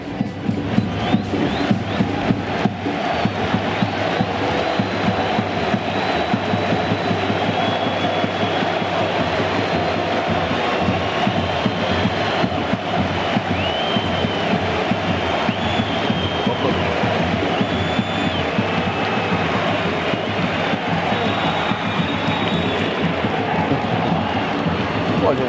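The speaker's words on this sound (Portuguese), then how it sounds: "ele é aplaudido pela torcida do esporte." A dense, steady roar from a football stadium crowd at a Sport versus São Paulo match, with the home and visiting supporters applauding a substituted player. The noise is loud and continuous, with no single sound standing out.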